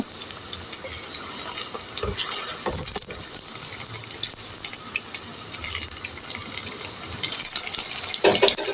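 A vegetable and egg snack fries in hot oil in a pan with a steady, loud sizzle, interrupted by occasional scraping and knocking as the pieces are turned over.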